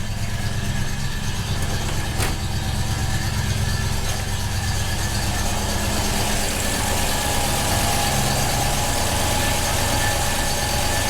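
A classic British Rover P5B engine idles steadily at its first start-up of the year, a loud, even low rumble that holds close and unbroken throughout.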